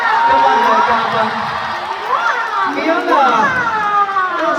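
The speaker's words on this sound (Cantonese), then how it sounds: "大家幫我俾最熱烈嘅掌聲，今晚嘅嘉賓" An audience at a live Hong Kong concert cheers and shouts for the guest, a loud, continuous crowd roar with a voice speaking over it.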